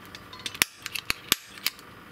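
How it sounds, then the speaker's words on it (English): A punch tool is clicked repeatedly up close, giving a quick irregular series of sharp, snappy mechanical clicks with a few louder snaps among them. "This is a punch, so it kind of sounds like this."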